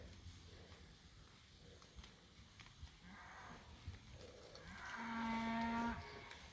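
A cow moos loudly near the end, a long low call rising out of quiet outdoor ambience with faint rustling, on a farm during a cattle mob move.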